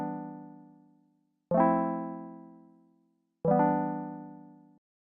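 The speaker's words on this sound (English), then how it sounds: "So you can hear when I turn the rate down" Synth notes spaced about two seconds apart, their pitch wavering in a slower, gentle LFO warble as each note fades. No one speaks.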